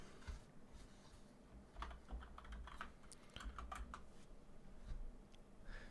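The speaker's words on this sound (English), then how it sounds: "And so I've been typing away." Steady typing on a computer keyboard while drafting a chapter, with bursts of close, crisp key clicks in uneven runs and short pauses, no voices.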